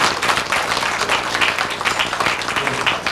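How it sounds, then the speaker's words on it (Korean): A crowd claps at a newspaper anniversary ceremony during a cake-cutting, dense and loud, with voices mixed in beneath the clapping. "박수"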